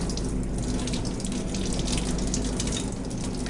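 Steady gush of water from a faucet running while an oven filter from a Blodgett BCP combi oven is rinsed after washing in warm soapy water, continuous and fairly loud throughout, with no talking.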